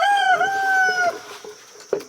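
A rooster in a homestead rooster coop lets out one loud, close crow lasting about a second, followed by a few softer clucks and a sharp knock.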